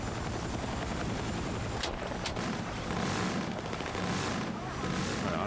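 Helicopter rotor roar mixed with bursts of gunfire and explosions in a Battlefield 6 match, a dense continuous battle din with a few sharp cracks near the two-second mark.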